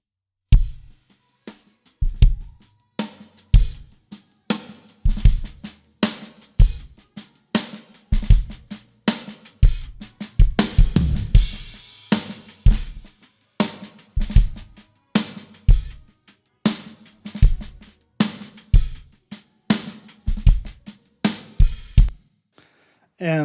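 Full acoustic drum kit with kick, snare and several toms playing a driving groove, loud punchy hits in steady rhythm with tom fills midway and a sharp cutoff near the end.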